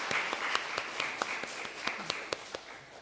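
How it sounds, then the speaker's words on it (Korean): Congregation in a church applauding to welcome people at an Easter-season Sunday service, a steady wash of many hands clapping with sharper individual claps popping out on top at moderate distance. "옆에 있는 분들을 박수로 환영하겠습니다."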